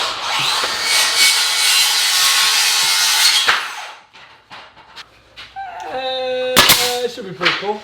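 A miter saw cuts wood for a wall inlay with a loud, steady whine for about three and a half seconds, then stops abruptly. Quieter handling noises, voices and a dog follow.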